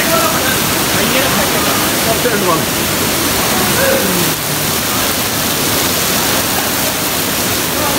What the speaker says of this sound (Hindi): ये अम्ब्रेला वाटरफॉल का नीचे का नज़ारा है